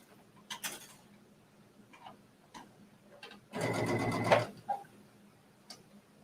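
A sewing machine stitches a tunic in a brief, rapid burst of needle chatter about a second long, surrounded by quieter ticks and handling noises.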